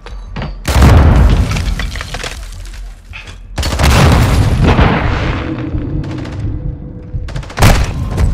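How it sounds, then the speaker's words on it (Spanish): Grenade explosions in Call of Duty: Modern Warfare II, two loud, close booms with long rumbling decay and scattered gunfire around them, followed by a sharp burst near the end. "¡Granada, va!"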